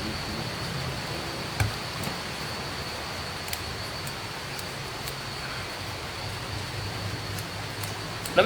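Steady rain falls close by as a constant even hiss, with a few faint taps and knocks standing out, and nobody talking.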